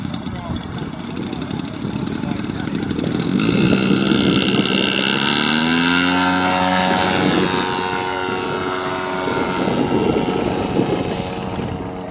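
A giant scale Aviation Concepts Cessna 185 Sky Wagon RC plane drones overhead, its propeller engine rising and falling in pitch as it passes, loud and continuous, while someone talks over it.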